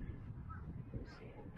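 Birds call outdoors, crow-like caws sounding faint and distant over low rumbling background noise, brief and sparse.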